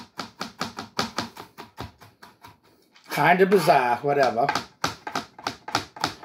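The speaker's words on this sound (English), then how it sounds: "See, I'm still chopping." A knife chops walnuts on a cutting board in quick, close, evenly spaced strikes, pausing briefly while a person talks, then resuming the steady rhythm.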